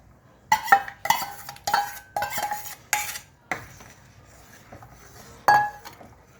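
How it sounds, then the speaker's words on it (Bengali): Patali jaggery being poured into a pot of chosir payesh, heard as a close series of sharp metallic clinks and scrapes from a spoon against the vessel, coming in quick bursts with short pauses between them. "গুড়টা ঢেলে দিচ্ছি।"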